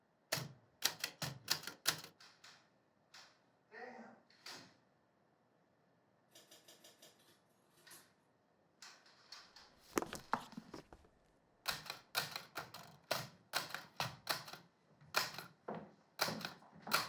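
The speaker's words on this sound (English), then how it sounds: "do you have a typewriter?" Typewriter keys clacking close up in uneven bursts, with a carriage or lever rattle partway through and a brisk run of strikes toward the end.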